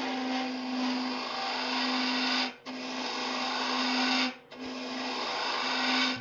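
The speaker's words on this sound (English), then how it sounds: "I can start to take bigger and bigger shavings with it and get the wood out in a hurry." Wood lathe with a turning tool shaving wood for a canine burial urn, a steady loud broadband whir with a tonal hum, broken by two brief pauses as the cut lifts off.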